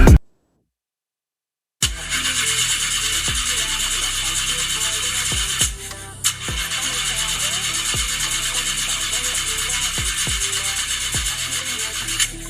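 A car engine cranks repeatedly without catching. The starter makes a steady whir broken by rhythmic clunks about a second apart, loud and close, after a brief silence at the start.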